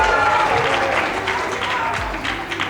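Studio audience applauding a contestant at a school quiz semifinal, steady broadband clapping filling the whole stretch, fairly loud and continuous with faint voices mixed underneath.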